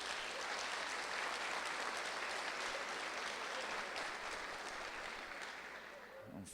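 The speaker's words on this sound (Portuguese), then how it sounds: "Não está recebendo ele com aplauso ao Senhor?" Steady, dense applause from a church congregation welcoming their pastor, continuous and even throughout, fading slightly at the end with a brief thump.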